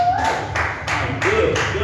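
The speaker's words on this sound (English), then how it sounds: "clap it up, clap it up, clap it up" Applause from a comedy show audience, with bursts of rhythmic clapping pulsing in waves under a loud voice talking over it.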